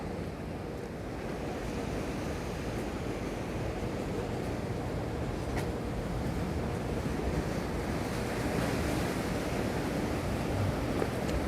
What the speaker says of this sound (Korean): 여기는 이제 항상 동해안은 입구는 파도가 많이 치니까